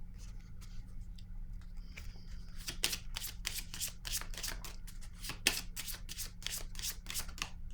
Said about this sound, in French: OK, je vais piger une autre carte ici.